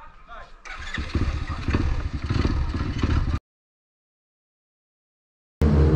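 Ohvale minimoto racing motorcycles run at the Il Sagittario track in Latina during a Trofeo TSC race, their engines droning and revving loudly up close before cutting to silence and then returning abruptly.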